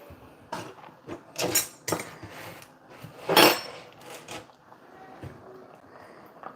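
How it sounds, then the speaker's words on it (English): A spoon stirs chopped cilantro into keto calabacitas in a pan, making a few soft clinks and scrapes against the metal, quiet and close, with short pauses between strokes. "I'm gonna go ahead and mix in the cilantro"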